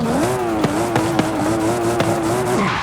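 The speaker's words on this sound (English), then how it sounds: "let's give it a nice little rev." A Nissan R34 Skyline in Forza Horizon 5 revs up, a loud, close engine tone rising and holding with repeated sharp bursts from limiter or shift pops over nearly three seconds.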